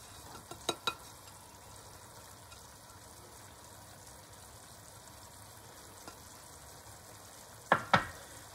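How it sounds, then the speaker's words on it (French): A sauce boils gently with Comté cheese melting into it for a chicken Gaston Gérard, a faint continuous bubbling sizzle broken by a few sharp utensil clinks near the start and end. "La sauce commence à bouillir. Je mets le comté et je vais le laisser fondre."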